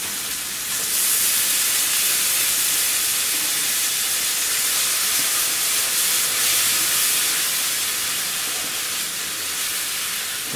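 Tomatoes hit hot oil in a cooking pan for an aubergine and potato dish, setting off a loud, steady hissing sizzle that fills the whole stretch with no pauses and no voices.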